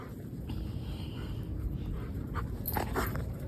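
Puppy panting and whimpering softly amid steady low background rumble, faint and continuous, with a few brief higher yelps near the end.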